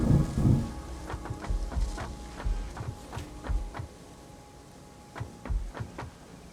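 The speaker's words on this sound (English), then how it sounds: "Tell my mic to stop picking up the thunder." Thunder from a nearby storm rumbles low and fairly faint, swelling at the start and again in rolling bursts, with patter like rain and faint clicks over a constant hum.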